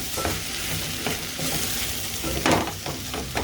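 Seasoned potato mixture for a potato egg pancake being stirred and fried in a pan, a steady sizzle under repeated scraping strokes of the spatula, close and continuous.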